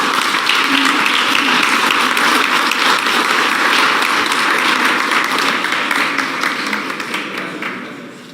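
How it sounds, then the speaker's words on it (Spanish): An audience at an Indigenous Peoples' Day commemorative event gives a soprano dense, loud applause that stays even and then gradually tapers off at the end. "Recibámoslo con un aplauso,"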